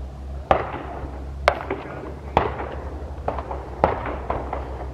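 Exhaust backfire from a single-turbo Nissan 350z on a canyon drive: about five sharp, loud pops spaced roughly a second apart over a low, steady engine drone.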